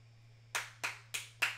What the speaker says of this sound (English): Can you stop clapping so much?